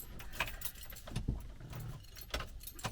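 Keys jangle in the ignition of a 2009 Chevy Silverado 1500, a few close metallic rattles and clicks over a quiet cab background.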